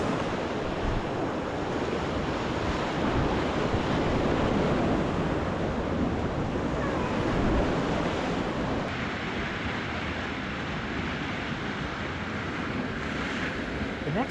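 Rushing river water surrounds a raft in a canyon, a constant broadband roar that stays loud and even throughout, mixed with wind buffeting the microphone.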